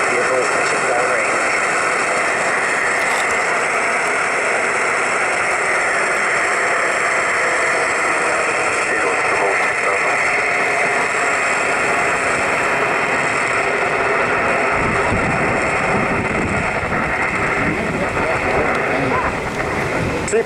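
SpaceX Falcon 9 rocket carrying a Crew Dragon capsule climbing away from pad 39A, a steady, loud, broadband roar with wind buffeting that holds unbroken throughout.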